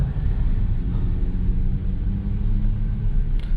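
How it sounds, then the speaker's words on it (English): Steady, loud engine rumble from a BMW 640i Gran Coupe with an MHD Stage 2+ tune, driven in sport mode. The drone stays continuous and heavy throughout, heard from inside the car. "this is what the car feels like in sport mode. Sounds really good, pulls really good."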